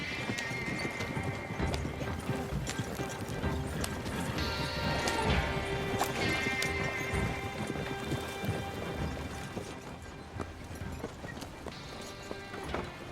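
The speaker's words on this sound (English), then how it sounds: "Stop the wagon just ahead." Horse hooves clip-clop steadily as a horse-drawn wagon rolls along in Red Dead Online, with an occasional whinny and rattling wagon noise, continuous and fairly close throughout.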